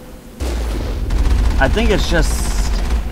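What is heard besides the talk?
cannon firing in the video game Mass Effect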